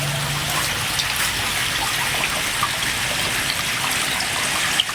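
Water pours steadily out of a septic tank at a commercial building construction site, a continuous close hissing gush with faint splashes and no speech.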